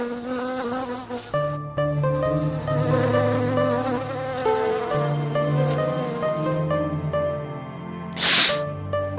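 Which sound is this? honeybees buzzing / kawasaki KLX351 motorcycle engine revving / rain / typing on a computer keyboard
honeybees buzzing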